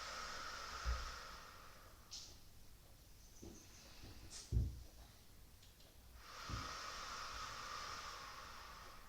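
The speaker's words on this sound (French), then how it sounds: "Et j'inspire, j'expire." During a psoas, thigh and glute stretch, a person takes slow, audible breaths in and out with a hissing airflow, near and soft, a couple of long exhales over a faint background hiss.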